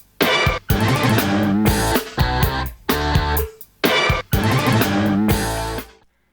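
A Fairlight sampler's orchestra hit patch in a song: loud, punchy full-band stabs fire in quick rhythmic bursts with short gaps between them, then a final hit fades away.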